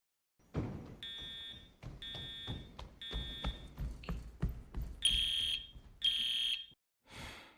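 A building fire alarm triggered by a pulled manual pull station sounds in a series of loud, repeated electronic tones, each burst cutting off briefly before the next, with no talking over it.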